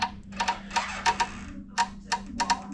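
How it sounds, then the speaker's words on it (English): Four small relays in a fire alarm panel click in quick irregular bursts, crisp and close, over a steady electrical hum. "So that clicking is these relays here"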